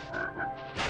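Frog croaking in the video game Spyro 2, a couple of close, low buzzing croaks heard alone without talk.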